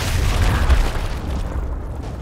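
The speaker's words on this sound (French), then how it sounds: "Je lance une grenade." Grenade explosion in the video game Gears Tactics: a loud, heavy boom with a rumbling low-end tail that rolls on and slowly fades, with no voices over it.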